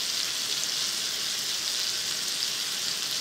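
Chicken tenders frying in a seasoned iron skillet, a dense, even sizzle of hot oil with no breaks, close and steady from start to finish.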